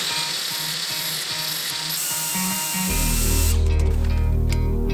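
A grinder grinds material off the sides of a drill bit, a steady high-pitched whine and hiss that shifts to a louder, lower motor hum partway through, close and without any talking.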